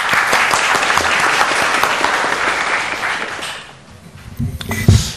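An audience at a National Assembly regulatory reform forum applauds loudly and steadily for several seconds, then the clapping thins out to a few scattered claps and small handling noises.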